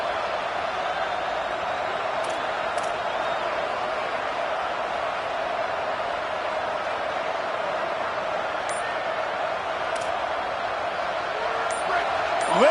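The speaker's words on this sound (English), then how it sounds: "listen to this crowd just shaking the girders of this place trying to help their defense" College football stadium crowd during a Texas versus Ohio State game, a dense continuous roar of thousands of fans that holds steady and loud, swelling slightly at the end, with faint clinks scattered through.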